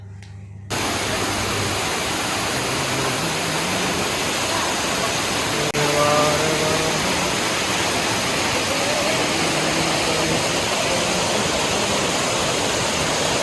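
Anantagiri waterfall among hills in Araku valley, a loud continuous roar of rushing water, steady and close, with faint tonal sounds drifting over it.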